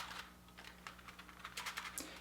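A Keychron K4 RGB mechanical keyboard is shaken by hand, producing a quiet series of soft rattling clicks and taps that build toward the end, heard alone at low level.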